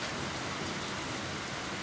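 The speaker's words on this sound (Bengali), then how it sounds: "কত সুন্দর বৃষ্টি" Rain falls steadily during a storm in a Bangladeshi village area, making a dense, even wash of hiss with no breaks or voices over the short span.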